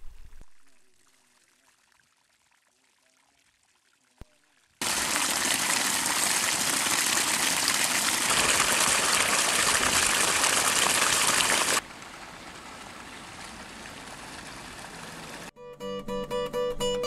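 Spring water pumped into a backyard ice rink pours and gushes loudly and steadily for several seconds after a quiet start, then drops to a softer, still continuous flow.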